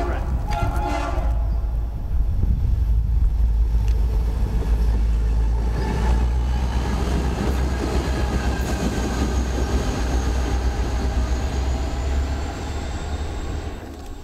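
A train rumbles past a glass plant with a heavy, steady low roar and rattling wheels, staying loud throughout before easing slightly near the end.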